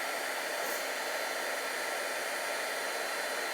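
A heat gun melts clear embossing powder during a craft background project, blowing with an unbroken, loud, even roar from start to end.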